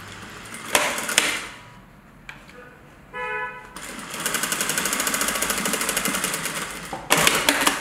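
A sewing machine stitches the top edge of a tool roll's lining in rapid, rattling bursts, with short pauses between runs and a faint tonal hum in one gap, close and fairly loud.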